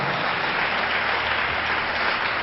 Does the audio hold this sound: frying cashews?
no